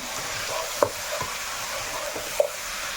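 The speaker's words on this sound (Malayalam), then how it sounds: "ആ കുരുമുളകിൻ്റെ ഫ്ലേവറൊക്കെ ചിക്കനിലൊന്ന് പിടിച്ചാട്ടെ എന്നിട്ട് നല്ലപോലെ മിക്സ് ചെയ്തിട്ട്" Chicken being stirred with black pepper in a pan for a Kerala-style country chicken curry, a soft steady sizzle with a few scraping stir strokes and light spoon knocks, no talking.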